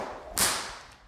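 A single sharp, loud whip crack snaps close by during a Tasmanian Cutback, rising out of a faint swishing swing and fading quickly, with no talking.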